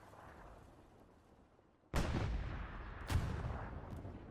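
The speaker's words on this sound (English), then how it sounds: "Maybe going to get a taste of artillery battery." Artillery barrage in the World War II shooter Hell Let Loose: after a low background rumble, a heavy shell burst hits suddenly and loudly, followed by a second big impact and a fainter third, each leaving a long rolling roar.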